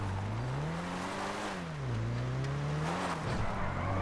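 A car in a police patrol video game speeds off a dirt path onto a road, its engine revving loudly and rising and falling in pitch, with a rough, gritty rush of tire and road noise close by.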